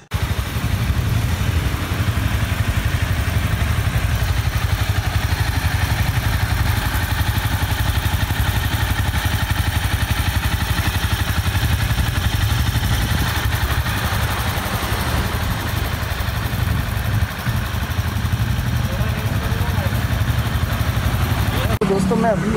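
A motorcycle engine runs steadily during a PUC emissions check, a continuous close idle with a low rumble and mechanical clatter, with speech over it throughout.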